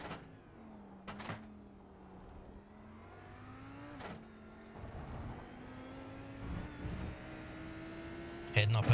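A Lamborghini GT3 race car's engine at Fuji Speedway holds a steady droning note that rises gradually through a corner, with brief sharp bursts and a loud jolt at the end.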